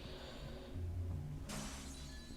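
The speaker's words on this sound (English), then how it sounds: "I guess that's what that glass shattering sound effect would suggest." Glass shatters as a game sound effect in Castlevania: Legacy of Darkness, a single sudden bright crash that decays quickly over a continuous low game soundtrack.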